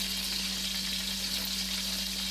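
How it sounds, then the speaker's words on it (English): Kitchen tap water runs steadily as a continuous broadband hiss with a low electrical hum beneath, unchanging and fairly loud throughout. "Got the water running."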